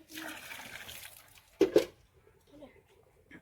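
Water gushes into a bucket, drawn for watering okra plants in a home garden, a steady rushing pour for about a second and a half, followed by a couple of sharp knocks and quieter trickles with faint talk nearby.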